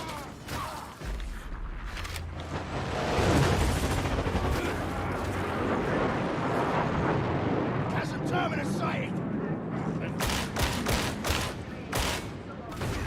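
Dense, continuous gunfire in Warhammer 40K Darktide, hip-fired in rapid bursts with sharp cracks layered over a rumbling battle din, loud and close throughout.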